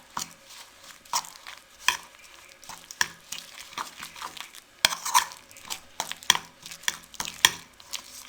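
Spices being mixed in a bowl, with repeated scraping and stirring strokes, some sharper clinks, close and fairly quiet with no talking.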